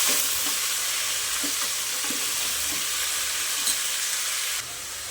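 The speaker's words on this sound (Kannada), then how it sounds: "ಆಯಿಲಲ್ಲಿ ಒಂದು ಎರಡು ನಿಮಿಷ ಚೆನ್ನಾಗಿ ಫ್ರೈ ಮಾಡ್ಕೋಬೇಕು ಅವರೆಬೇಳೆ" Avare bele (field bean lentils) frying in hot oil with onion and curry leaves for a village-style hitikida avare bele saaru, giving a continuous close sizzle with faint stirring scrapes.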